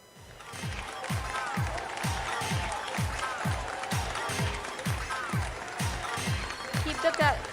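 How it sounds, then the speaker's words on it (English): Audience clapping at an education day ceremony, a dense steady patter of many hands filling the room, with a strong rhythmic low thumping running underneath throughout. "Keep the claps going."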